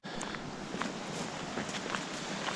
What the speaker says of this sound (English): so we're walking into the site